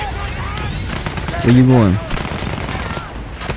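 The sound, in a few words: gunfire in the video game Battlefield 1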